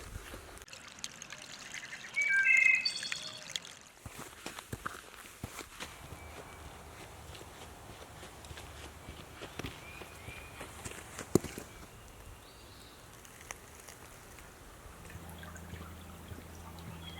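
Footsteps crunch along a wooded trail at a nature center in Marcellus, New York, with a louder burst of movement early on, then quieter scattered steps amid faint trickling water.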